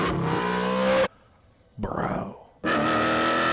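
Someone's custom Plymouth Cuda engine, loud and close, roaring and revving in bursts, dropping to near silence between them, with a short spoken word in the gap.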